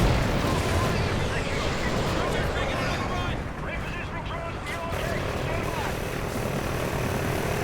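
Drones in the Call of Duty Ghosts video game whir and drone continuously amid a dense, loud, roaring battle soundscape, with voices talking over it.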